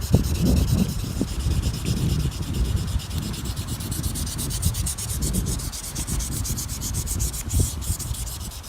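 Steel knife blade drawn repeatedly across a sharpening stone or rod, a close, steady rasping rub with a continuous gritty texture and no talking.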